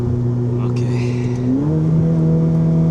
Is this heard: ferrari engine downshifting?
yes